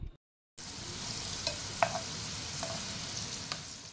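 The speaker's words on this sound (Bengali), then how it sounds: "এবার বাকি পকোড়াগুলো ঠিক একইভাবেই ভেজে নিচ্ছি" Okra pakoras deep-frying in hot oil give a steady, close crackling sizzle with a few louder pops and spatters, following a brief silent gap at the start; no one speaks.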